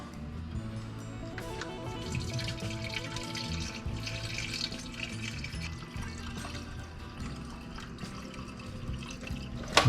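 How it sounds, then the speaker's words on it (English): Coolant pours steadily into the cooling system of a BMW 528i F10 during a thermostat replacement, a continuous close liquid trickle and gurgle with no one talking. "Refill the coolant. We're going to fill it up all the way to the top."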